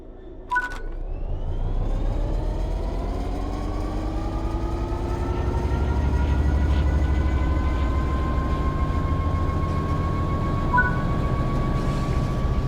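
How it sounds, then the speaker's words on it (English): A train in Train Sim World 3 starting to move, beginning with a brief click and hiss, then a continuous engine and traction drone whose tones rise steadily as it gathers speed, loud and close, with no voices. "Apply some throttle to get the train moving."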